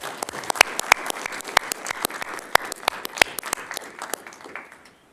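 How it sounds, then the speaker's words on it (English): A round of applause for fire district staff and their spouses at a board meeting, a moderate-sized group clapping with sharp, uneven individual claps that thin out and fade toward the end. "So big round of applause, not only for our staff, but for you as well."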